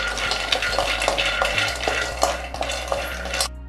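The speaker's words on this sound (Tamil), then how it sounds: "அடுத்தது நான் முந்திரி 150 கிராம் எடுத்திருக்கேன். இதையும் வறுத்துக்க போகிறேன்." Cashews dry-roasting in a pan are stirred in a fast, busy rhythm of rattling and scraping strokes over a steady low hum, fairly loud and close, with no talking.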